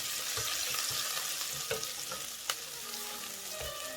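Ginger is stirred in hot oil in a pan for a pea, potato and eggplant curry, making a constant dense sizzle with a few clicks and scrapes from stirring, near and steady, and nobody talks.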